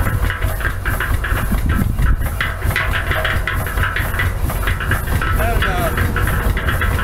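A steam engine run on compressed air drives a cement mixer, giving a steady chuffing, hissing mechanical churn that continues throughout while people talk over it.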